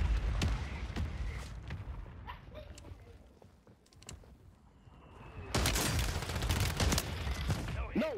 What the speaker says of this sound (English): This shotgun shoots so fast.